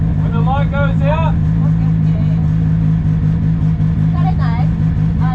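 Drift car engine at Ebisu during a passenger ride, a steady loud in-cabin drone with a strong low hum throughout, while people talk and shout over it.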